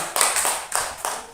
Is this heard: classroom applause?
yes